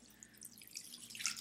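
Spring water trickles and splashes softly into a bowl, a quiet, brief pour that grows slightly toward the end.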